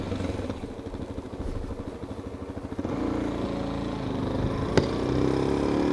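A motorcycle engine recorded during a ride chugs in a rhythmic, pulsing idle-like beat, then revs up into a louder, smoother sustained roar, with a sharp knock partway through.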